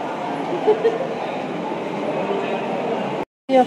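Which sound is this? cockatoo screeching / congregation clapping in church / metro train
metro train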